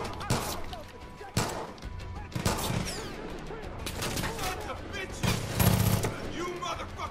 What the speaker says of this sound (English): Oh, this gun has a lot of recoil.